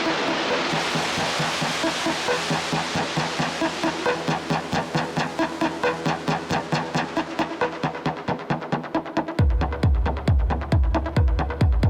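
A pulsing modular synthesizer tone throbs in a steady rhythm, washed in reverb that is slowly brought down and thins out, then deep punchy bass beats take over.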